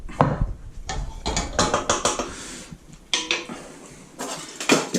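A plate being picked up and set down for serving cacio e pepe pasta, with a few close clinks and knocks of crockery and utensils in a home kitchen, scattered in short bursts with no talking.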